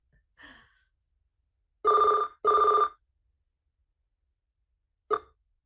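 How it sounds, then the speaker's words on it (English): A telephone rings in a school counseling office: two close, loud electronic bursts of ringing a beat apart, a short third burst a few seconds later, and a faint breathy sound near the start. "my phone is ringing, if you guys can hear that"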